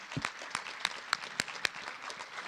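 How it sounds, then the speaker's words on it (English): An audience applauds at a ULI Toronto urban symposium, with brisk, fairly light clapping from a moderate-sized crowd heard alone at a steady, even density. "So round of applause."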